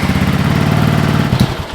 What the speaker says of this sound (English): We'll go ahead and fire her up.